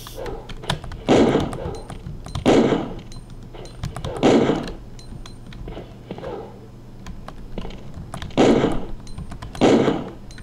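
Gunfire in the 1998 game Resident Evil 2 as Leon fights: about five heavy, booming shots, spaced unevenly a second or more apart, over a low ambient hum.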